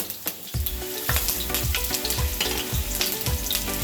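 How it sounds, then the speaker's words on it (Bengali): Chopped garlic sizzles loudly in hot mustard oil in a pan, a steady dense crackle with repeated spoon or spatula taps. "তেলটা গরম হয়ে গেছে, এবার আমি কিছুটা রসুন, চপ করে রাখা রসুন এখানে ফোড়ন দেবো।"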